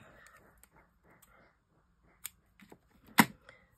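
A piece of cord or thread is cut with scissors: a few soft handling rustles and small clicks lead to one sharp, close snip, with a fainter click before it.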